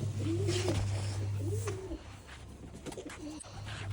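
Pigeons coo in repeated soft, rolling calls close by, three phrases over a steady low background hum.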